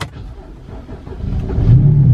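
A 2008 BMW E92 with a weak, worn-out battery cranks roughly and then catches, its engine building to a louder, steady low idle near the end.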